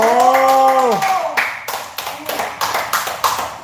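A voice calls out briefly, then several people clap in a quick, steady rhythm nearby.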